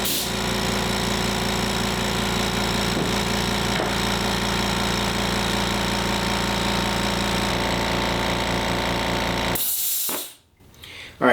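A Harbor Freight 2 gallon air compressor runs loud and steady at close range, its pounding, rattling motor drone holding for about ten seconds before cutting off abruptly.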